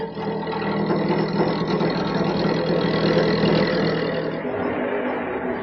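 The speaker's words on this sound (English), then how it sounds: "I'm going to start with this skew chisel and make the initial cut at the transition" Wood spinning on a lathe under a skew chisel, a steady loud whirring drone with a gritty cutting texture that holds throughout and eases slightly at the end.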